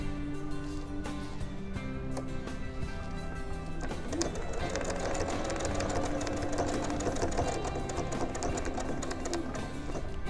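A home sewing machine runs steadily, stitching down fabric on a Dresden plate wall-hanging quilt, its hum continuous and close with no talk.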